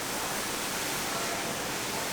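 A Kranzle HD7 pressure washer blasts a continuous, loud, even hiss of spraying water as it pre-wets a car, with no other sound breaking through.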